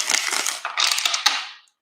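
Tarot cards being shuffled by hand in a quick papery riffle, close and crisp, with a few rapid bursts that then fade out, no voices.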